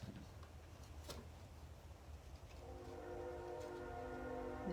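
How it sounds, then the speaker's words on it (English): A train rumbles along nearby railroad tracks, a low steady roll that grows louder, with a sustained horn-like tone joining partway through; quiet tapping sounds come earlier. "and there's a train."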